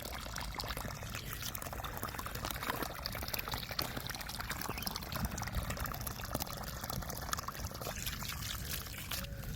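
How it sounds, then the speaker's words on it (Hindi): Water poured onto the soil around the base of an American Red Palmer fruit tree makes a steady, continuous splashing trickle that runs without a break, moderately near, with no talk over it. "अब मैंने पानी छोड़ दिया है"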